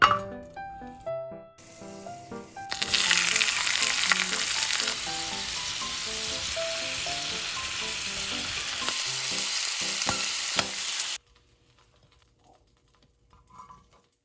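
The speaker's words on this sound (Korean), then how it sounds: "버터에 노릇노릇 구워지고 있고요." Razor clams sizzle and fry loudly in butter in a hot pan for several seconds, with occasional clinks of shells and utensils, then the sizzling abruptly stops.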